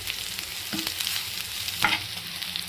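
Onions soften in a pan for carrot curry, giving a steady, close sizzle of frying under a lid. A spoon stirs and scrapes a few times, with no talking.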